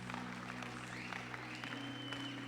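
Church congregation clapping after a hallelujah, a soft, fairly distant patter of hands under sustained organ or keyboard tones and a faint gliding melodic line.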